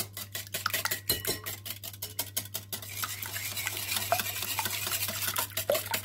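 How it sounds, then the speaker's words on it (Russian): Eggs with a pinch of salt being beaten with a hand whisk in a bowl: quick, rapid clicking strokes up close, brisk at first, then lighter and sparser. "Мы сейчас к нашим яйцам добавляем такую хорошую щепотку соли и венчиком их хорошо взбиваем."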